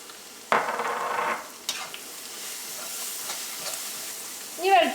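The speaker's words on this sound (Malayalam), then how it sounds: "വെളുത്തുള്ളിയും പച്ചമുളകൊക്കെ എണ്ണയിൽ കിടന്ന് നന്നായിട്ട് മുരിഞ്ഞിട്ടുണ്ട്." Ground ginger, garlic and green chillies frying in oil over medium flame for ginger pickle, a close hiss and sizzle that surges as ingredients go in, with stirring and a faint clatter near the end.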